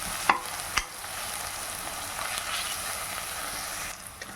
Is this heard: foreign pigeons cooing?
no